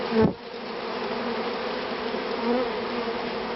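A swarm of honey bees being collected in Brittany buzzes steadily and close, a dense continuous drone with a brief louder burst at the start.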